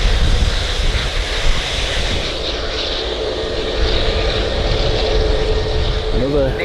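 An Air France passenger jet departing from runway 05L at Manchester Airport, its engines giving a loud, steady broadband roar that fills the whole stretch outdoors with a constant wash of noise.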